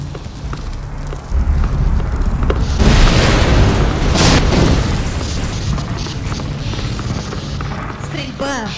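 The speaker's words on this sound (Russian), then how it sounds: "Стрельба, взрывы, разрушения!" Booming blasts and rapid crackling bursts from the video game Half-Life 2: Episode One build into a dense, loud wash of explosions and shooting, with faint voices in the background.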